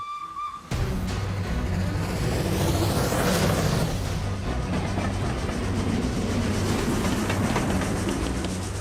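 A train runs along a railway, its loud, continuous rumble and rhythmic clickety-clack starting abruptly after a brief quiet moment and carrying on steadily to the end.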